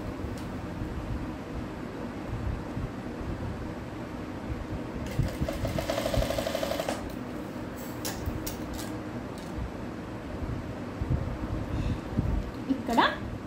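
Sewing machine stitching a blouse, a steady mechanical whir with a louder burst of fast stitching midway, under near-continuous background noise and speech.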